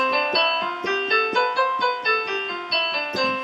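Single notes of an Ionian scale are played one after another at an even pace, each ringing briefly, with no voice.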